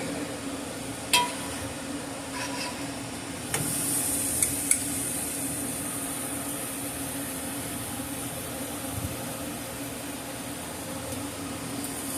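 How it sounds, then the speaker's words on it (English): Ribeye steak searing over a flaring open grill fire, a low steady rush of flame and hiss with a few sharp pops and crackles near the start, otherwise continuous. "what you're seeing me try to do is get the flame to flare up"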